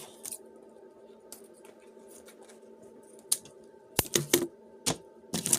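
Scissors snipping through wired ribbon for a handmade bow, a few sharp close cuts and clicks clustered near the end after quieter handling noises, with no talk.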